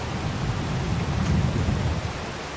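Steady rain falls in Farming Simulator 22, a dense, even hiss with a low rumble underneath that stays constant throughout, with no voices heard.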